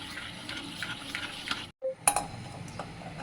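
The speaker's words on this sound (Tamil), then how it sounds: "நல்லா கலந்து விடுங்க உண்டை அந்த கட்டி கட்டியாக இல்லாத அளவுக்கு நல்லா கலந்துக்கணும்" Steady scraping and swishing of thick batter for sweet fried dumplings being stirred in a bowl, with a brief pause and a light clink of a utensil.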